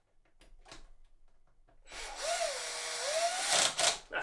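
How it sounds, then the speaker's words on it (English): A power screwdriver whirs as it drives screws into the stand of a Samsung CHG90 super-wide curved monitor, beginning after about two seconds of quiet handling and rising to a steady, close, loud whine with a pitch dip. "that's for the purpose of screwing these screws in"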